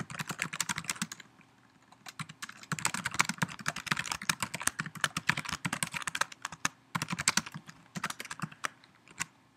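Rapid keystrokes on a computer keyboard, a dense run of sharp clicks with a short pause near the start, steady and close with no voices.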